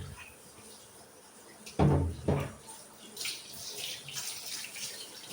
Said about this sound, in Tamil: மீனை பொறுத்தளவு எந்த மீனாக இருந்தாலும் நம்ம நல்லா கழுவிடணும்